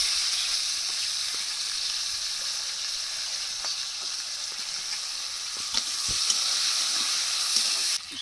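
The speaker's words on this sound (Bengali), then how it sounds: "তেলের মধ্যে 4 কোয়া রসুন দিয়ে দেবো আর পেঁয়াজ কুচি, কাঁচা লঙ্কা একটু বেশি করে দেবো" Garlic cloves, chopped onion and green chillies sizzle steadily in hot oil, a continuous bright hiss with a few soft stirring clicks, no talking.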